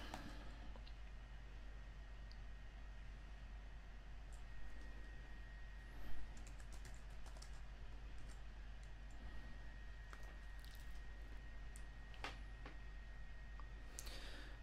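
Light clicking keystrokes tapped on a computer keyboard, a few scattered quiet clicks over a low steady hum, with no talking.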